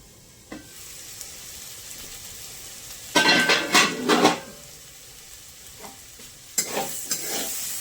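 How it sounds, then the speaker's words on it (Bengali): Potatoes fry on low heat in a pan with a quiet background sizzle, broken by two loud bursts of stirring and scraping against the pan. "অল্প আঁচে ভাজা ভাজা হতে দেবো"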